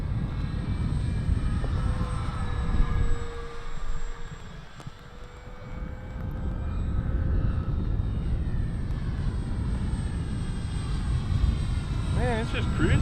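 RC model airplane with a propeller engine cruising at quarter throttle, a steady buzzing drone that stays in the air and shifts slightly in pitch as it passes, fairly close and continuous throughout.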